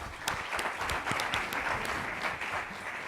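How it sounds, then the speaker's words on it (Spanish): Audience applause after a speaker's introduction at an economics undergraduate talk, a steady wash of many hands clapping at a constant level for the whole stretch, with no voices over it. "Así es que un aplauso, por favor."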